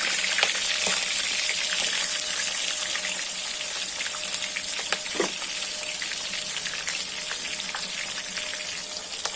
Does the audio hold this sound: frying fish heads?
yes